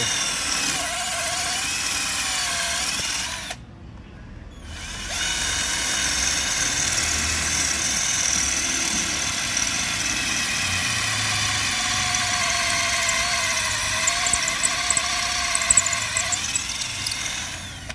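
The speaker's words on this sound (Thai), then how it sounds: "เดี๋ยวผมจะเจาะปูนให้ดูนะพี่นะ" A New Bolic 59 V cordless drill running and boring into concrete, a continuous high motor whine with a brief pause partway through, then sustained drilling close to the microphone.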